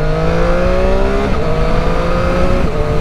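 A 2021 Triumph 765 RS motorcycle pulls hard under acceleration, its engine note climbing steadily before a quick clutchless quickshifter change drops the pitch, then the revs rise again, loud and close.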